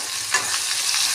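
Onion and cumin frying in a pan over a gas flame, a steady close sizzle with a brief stir or clatter near the start, no talking.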